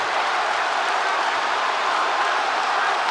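An arena crowd at a UFC bout between Dustin Poirier and Islam Makhachev roars and applauds in a dense, steady wash of cheering and clapping.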